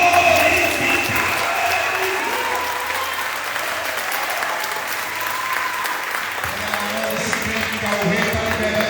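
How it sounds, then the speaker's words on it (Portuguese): Church congregation applauding during a Sunday celebration service, a sustained wash of clapping and crowd noise at moderate level, with a low musical drone underneath and some voices rising toward the end. "que pode aplaudir e glorificar"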